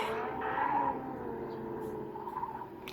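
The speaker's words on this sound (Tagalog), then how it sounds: "iba pa rin yung tunog ng brake dito guys" Brake skid from a car in the mobile game Car Parking Multiplayer, a sustained screeching tone with a steady engine-like drone underneath, moderately loud throughout with no talking.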